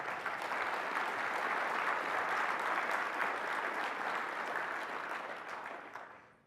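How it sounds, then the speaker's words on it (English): A conference audience gives a round of applause for its sponsors: a steady wash of many hands clapping at a moderate, somewhat distant level that gradually fades out at the end. "Could I get a round of applause for our sponsors,"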